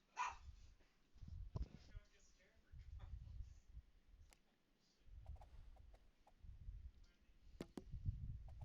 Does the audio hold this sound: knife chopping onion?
no